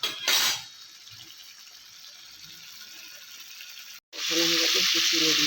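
Pointed gourds frying in a pan with chilli for patol paturi: a loud burst of sizzling at the start, a quieter hiss, then a fresh surge of loud frying as the gourds go in, with no talking.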